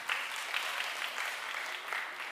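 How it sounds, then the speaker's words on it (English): Audience applause at a TEDxYouth event in Thailand, a short burst of steady, moderately loud clapping from the crowd. "So give them a big round of applause,"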